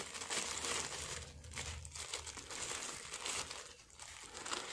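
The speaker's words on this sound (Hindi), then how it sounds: "लगता है ये पॉलीथीन भी दोनों साइड से सील है, तो इसको भी फटाफट से ओपन करते हैं" A polythene bag, sealed on both sides and holding wireless earphones, crinkles and rustles continuously as it is handled and opened, with close, quiet crackling bursts.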